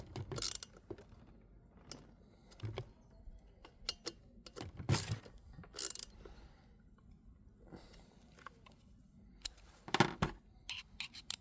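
Fastener tightened on a grass trimmer that won't run: intermittent clicks, ratcheting ticks and sharp metallic knocks of a hand tool working on it, close up with scattered handling noise and quiet pauses between bursts.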